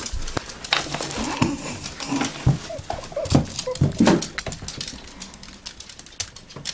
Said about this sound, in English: And the dogs aren't helping.